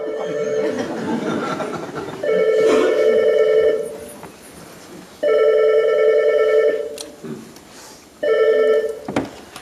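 An old-style telephone rings in three loud, evenly spaced bursts of bright electronic trilling, close and clear, with a brief chuckle and some voice activity between the rings on a 2014 television broadcast.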